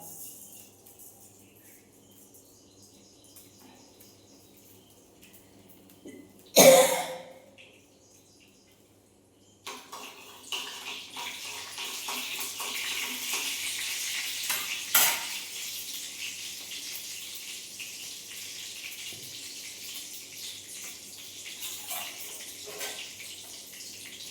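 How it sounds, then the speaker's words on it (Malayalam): Mustard seeds pop in hot oil in a pan. A sharp clatter comes first, then after a short quiet stretch a sustained crackling sizzle with small pops carries on. "കടുക് പൊട്ടി വന്നിട്ടുണ്ടായിരുന്നു."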